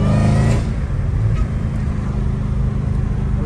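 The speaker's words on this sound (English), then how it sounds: "his car sounds so loud" Dodge Challenger Hellcat Redeye muscle car driving, its engine loud and close with a heavy low rumble that lifts briefly at the start, then settles into a steady drone with road noise.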